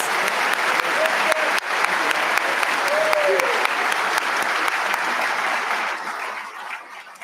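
A crowd at a West Point graduation ceremony gives awardees a long, steady round of applause, full and even throughout before tapering slightly at the end.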